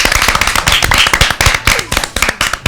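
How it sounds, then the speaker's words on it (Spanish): Studio audience on a Spanish children's TV show bursts into loud, dense applause, a steady wash of close hand claps lasting throughout with no talking over it. "con un fuerte aplauso de estos de los grandes"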